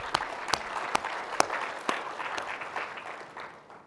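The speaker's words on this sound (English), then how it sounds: "I think that deserves a round of applause" Audience at a Linux kernel technical talk gives a round of applause: a few sharp, distinct claps stand out early over a softer wash of clapping that gradually fades away.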